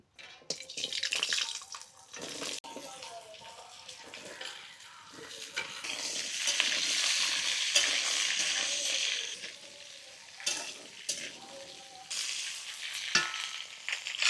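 Vegetables hit a hot cumin and dried red chilli tempering in oil and fry with a loud, steady sizzle, broken by stirring scrapes and short watery bursts throughout.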